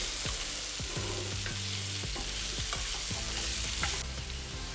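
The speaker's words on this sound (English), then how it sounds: "we're looking for these potatoes to kind of crisp up before we cut up our steak" Potatoes for a steak hash fry steadily in a pan, a constant loud sizzle with repeated scraping stirs and clinks of a utensil against the pan throughout; no talking.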